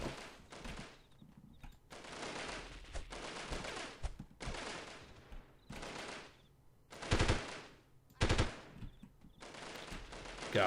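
Machine gun fire rings out in the 1998 video game Delta Force as a series of loud sustained automatic bursts separated by short gaps, close and dominant.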